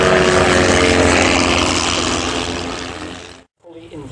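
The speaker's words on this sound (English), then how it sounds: "the aeroplane can stay upside down for probably a lot longer than the pilot can" A loud propeller aerobatic aeroplane with a fully inverted fuel system roars past at an air show, its engine drone fading over about three seconds before a brief gap and a returning burst.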